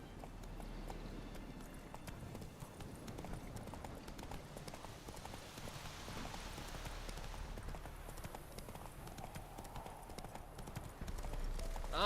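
The horse Roach trots in The Witcher 3, with hooves clopping in a steady, continuous rhythm at close range over a faint background.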